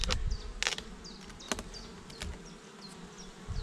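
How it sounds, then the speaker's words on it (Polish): Honeybees buzz steadily up close, with short louder bursts as they fly past the microphone and birds chirping faintly in the background. "teraz są łagodne pszczoły"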